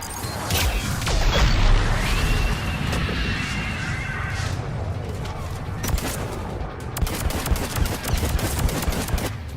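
Rifle fire in Mass Effect 3 crackles in loud, rapid bursts over a dense, rumbling battle din, with sharp repeated shots clustering toward the end.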